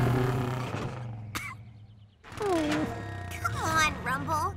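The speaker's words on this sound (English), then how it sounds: "I've heard you growl louder in your sleep" A cartoon character lets out a weak, wavering growl amid animated children's show dialogue, with voices acting out the sound in rising and falling tones over a soft music bed.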